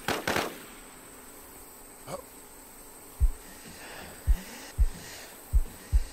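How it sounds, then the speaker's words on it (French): Gunfire in The War Z: a sharp crack and a fainter pop early on, then five low, punchy thumps that land at irregular intervals, all fairly distant, with no one talking. "Ça me tire dessus."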